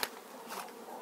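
Honey bees buzz softly in an open hive during a February colony inspection, a brief faint hum with a few louder close passes.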